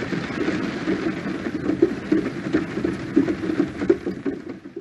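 Steady rain pattering on a surface in a mountain forest, a continuous, moderately loud patter with scattered heavier drops and no voices.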